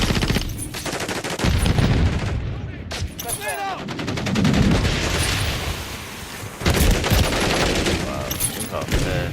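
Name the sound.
gunfire in Call of Duty video game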